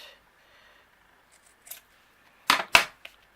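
Scissors cut an angle on one end of card stock for a handmade masculine greeting card: after near silence and a faint snip, two crisp, close snips come in quick succession, with no talking.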